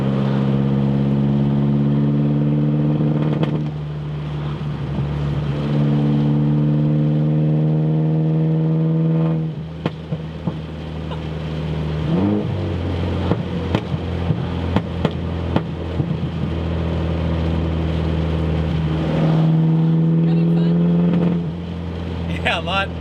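A Mini car engine drones while driving, with strong harmonic tones rising and falling through gear changes and acceleration, sounding close and continuous beneath people talking inside the car.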